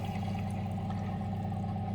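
Water overflowing from an old toilet cistern with an aging ball valve, a steady close-up pouring and trickling flow with a constant low hum underneath.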